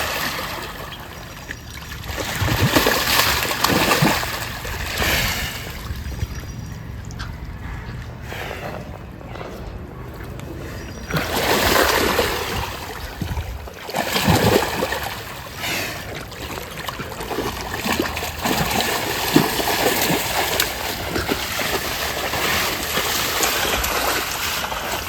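A bullock named Raj rolling and thrashing in water: repeated splashing bursts and trickling water, loud at times, with quieter gaps between them.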